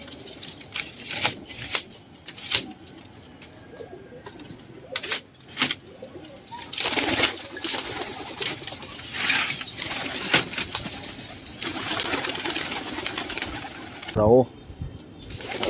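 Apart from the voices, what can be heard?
pigeons cooing and flapping wings as they are released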